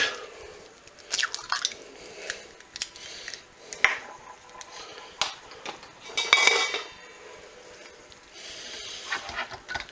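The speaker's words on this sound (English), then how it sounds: "So I'll beat that egg for a minute here." A fork beats an egg in a bowl to make a Cajun-style fish breading, a quick irregular clicking and sloshing close up, soft and uneven, with no talking.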